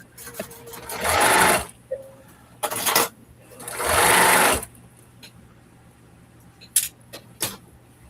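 Sewing machine stitching in bursts while sewing a bag, with two long runs of about a second each and several shorter runs in between, close and fairly loud against a quiet room.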